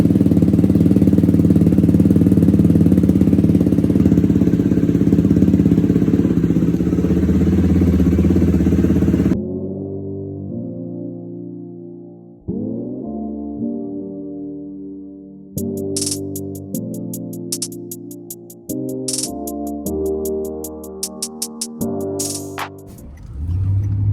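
A Yamaha dirt bike engine sputters and catches, then revs in uneven rising bursts that shift pitch, loud and near, following a stretch of steady rumbling background noise.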